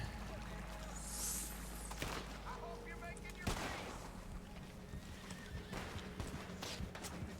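Hooves clip-clop in a quick galloping rhythm in the video game Red Dead Online, with a horse whinnying and scattered gunshots around it, while a voice talks over the action.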